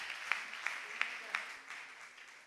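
A church congregation gives faint, distant applause during a service, with a few rhythmic claps standing out that fade away toward the end.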